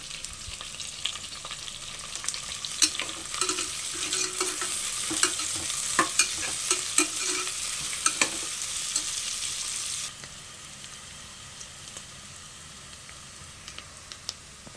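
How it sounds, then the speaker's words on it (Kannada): Ghee sizzles steadily in a pan with scattered pops and stirring clicks for about ten seconds, then drops to a quieter, faint simmer with occasional crackles. "ಲೈಟಾಗಿ ಬ್ರೌನ್ ಆಗೋವರೆಗೂ ಫ್ರೈ ಮಾಡಬೇಕು ತುಪ್ಪದಲ್ಲಿ."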